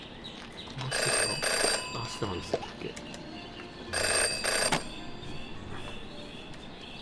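A phone rings in a detective video game: two bursts of bright electronic trilling a few seconds apart, loud and close, with a voice speaking Japanese briefly between them.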